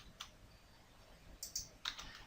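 Sparse, faint clicks of a computer keyboard during crossword entry, a few separate keystrokes spread over a quiet, hushed background with no talking.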